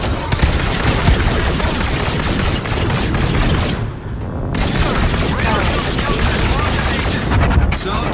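Dense, loud gunfire and explosions in the Call of Duty: Infinite Warfare game rattle almost continuously in rapid bursts, with a brief lull midway before the barrage resumes.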